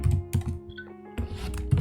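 Keys clatter on a computer keyboard during a software setup at a console, a few quick bursts of close, crisp typing with short pauses between, no voices.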